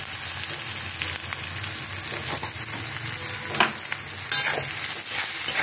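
Salt, sugar and chopped green chillies being stirred in a hot frying pan, with a constant loud sizzle and a few brief scraping strokes rising over it, close up and with no talking.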